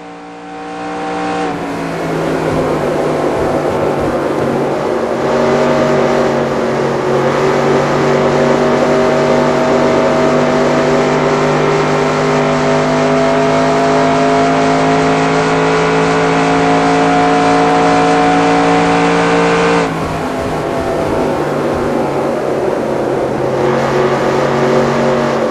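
A race car circles Michigan's oval in the NR2002 racing game, its engine droning steadily and loudly throughout with shifting pitch, briefly easing around twenty seconds before building again.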